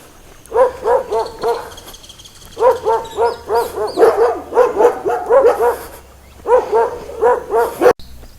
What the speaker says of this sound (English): dog wagging his tail and barking at me